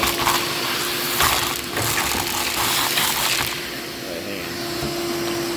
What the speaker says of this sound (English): And we got a vacuum, okay.